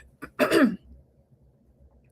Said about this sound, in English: clearing my throat as we go through this